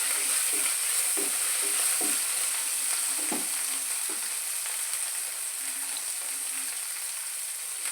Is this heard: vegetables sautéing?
yes